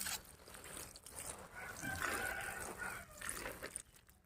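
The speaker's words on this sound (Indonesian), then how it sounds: "Sekarang kita siram." Tamarind stem cuttings being watered for bonsai stock. A faint, soft trickle and splash of water runs through the few seconds, fairly quiet overall.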